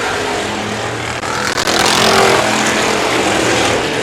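Thundercars race cars roar around the Indianapolis Speedrome oval, a dense, loud wash of engines passing close with a brief dip and surge, continuous throughout.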